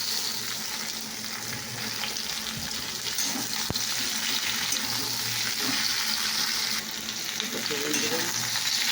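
Cut potatoes frying in a pan with onions hiss loudly and steadily, with stirring scrapes and bubbling running through the whole stretch and no talk over it.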